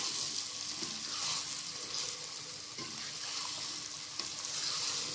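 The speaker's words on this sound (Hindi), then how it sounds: "अच्छे तरीके से गाजरों को फ्राई कर लेंगे" Carrots fry in a pan for a mixed vegetable dish, a constant soft crackling sizzle with occasional stirring taps, fairly quiet and close, with no one talking.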